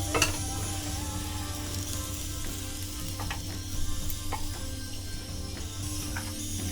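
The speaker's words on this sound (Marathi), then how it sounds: "आता ह्या सुक्या खोबरा आपण थोडासाच भाजा, ह्याच्यात तेल नाही टाकायचा" Dry coconut roasting in a pan without oil, giving a steady soft sizzle and crackle with occasional scraping stir clicks, close and continuous throughout, no voices.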